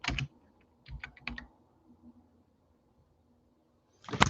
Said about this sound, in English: This is me typing.